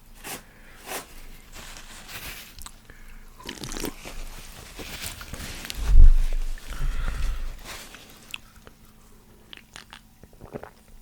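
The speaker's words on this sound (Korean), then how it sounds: "이제 맛있게 먹어보도록 하겠습니다." Someone eats a Korean military combat ration mixed with canned spicy tuna, close up, with soft crunches, chewing and packet rustling at a quiet level and a few louder bumps.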